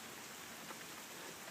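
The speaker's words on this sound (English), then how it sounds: "Now it's just rain." Rain falls in a steady, even hiss of drops on surfaces, faint and constant throughout with no voices.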